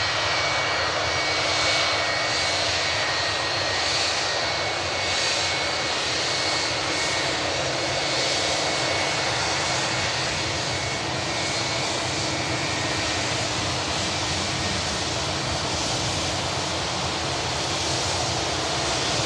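A 2016 Boeing 787-9 Dreamliner, eight years old, taxis out at an airport, giving a loud, steady, wide-band jet hiss and drone that stays close and unbroken throughout with no voices.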